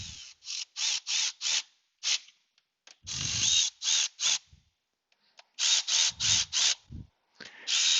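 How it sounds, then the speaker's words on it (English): A 1/4 inch Makita driver runs in bolts during an oil leak repair, giving repeated short, loud buzzing bursts in quick clusters separated by brief silences and occasional clunks. "Now I'm going to run these in with my 1/4 inch Makita, not all the way, just snug them up a little bit."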